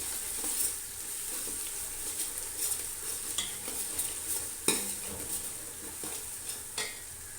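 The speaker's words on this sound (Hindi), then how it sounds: "अब मैं इसमें शामिल करूँगी 4 टेबल स्पून लहसुन अदरक का पेस्ट। इसको 1 से 2 मिनट भूनेंगे।" Garlic-ginger paste fries with onions in a pot for chicken haleem, giving a soft, steady sizzle. A spoon stirs and scrapes the pan at intervals, with occasional louder clinks.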